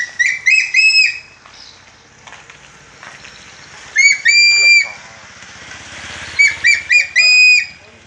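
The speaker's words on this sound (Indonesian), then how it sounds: "Black Sumatera elang" A caged Sumatran black eagle gives three bursts of shrill, whistling cries, loud and near, with quiet background noise between the calls.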